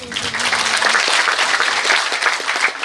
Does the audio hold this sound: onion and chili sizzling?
no